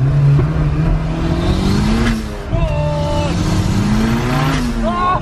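Datsun 280Z driven hard in third gear while sliding sideways, engine loud and droning with rising revs and tire squeal, people talking and shouting over it.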